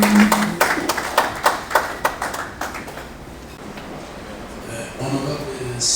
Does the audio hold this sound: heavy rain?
no